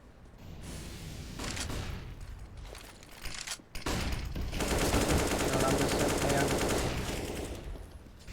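Rapid gunfire rattles through a Counter-Strike match on the Mirage map, dense bursts of shots and impacts layered with game effects, loud and sustained over several seconds with a brief drop in the middle, under a caster's commentary.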